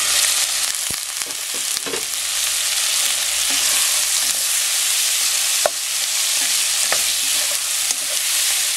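Meatballs and aromatics sautéing in a pan for meatball soup, a steady loud sizzle running throughout, with a few sharp clicks and scrapes of stirring breaking through now and then.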